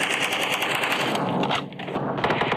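Loud, rapid automatic gunfire from a video game, sustained bursts of machine-gun fire with a brief dip in the middle before the shooting picks up again.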